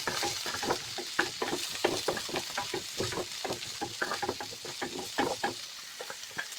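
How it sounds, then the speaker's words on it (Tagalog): Onion, with garlic, frying in a pan for Filipino ginisang talong, a close sizzle broken by a quick run of scraping stirs and clatters, with no talking. "i-fry natin siya ng konti ang sibuyas at ang ating garlic"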